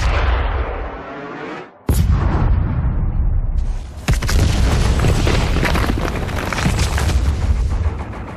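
Loud, deep weapon blast in Doom Eternal, heavy booming discharge with a sharp crack, followed by a sustained roaring rumble and further low explosive impacts filling the rest of the clip.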